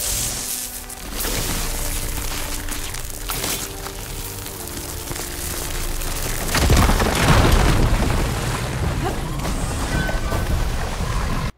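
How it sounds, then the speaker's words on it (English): Red crystals blasted apart with the Igniter tool in Horizon Forbidden West, a dense, rumbling explosion swelling around the middle of the clip over a steady layer of game ambience and music. "simply walk up to the red crystals and press R2 to blow them up and create new passageways through walls"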